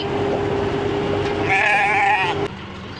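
A hair sheep at a ranch gives one wavering bleat lasting about a second, close and clear over a steady low background hum, with no talking.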